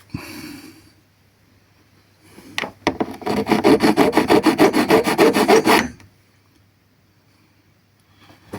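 Small hand file rasping on brass in quick regular back-and-forth strokes, a dense burst of about a dozen close, loud scrapes lasting roughly three seconds between quieter handling noises.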